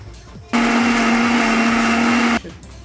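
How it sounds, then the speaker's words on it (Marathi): A mixer grinder grinds a wet spice paste with a little water for Khandeshi masala chana dal, a loud steady motor whine with a high-pitched hum that starts abruptly, holds for about two seconds and cuts off. "आपण आता आपला मसाला छान असा बारीक वाटून घ्यायचा आहे"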